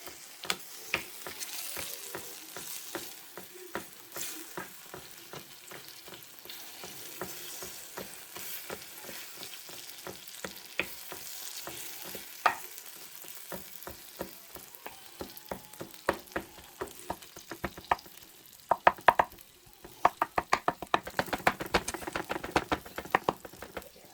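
Baked feta pasta being mashed in a baking dish with a utensil: a steady run of soft wet squelches and quick clicking scrapes against the dish, close and continuous, growing busier and sharper near the end, with no talk.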